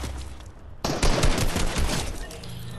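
Fortnite gunfire erupts in a rapid burst of shots that runs on for about two seconds after a short quiet lead-in, loud and close, with no voices.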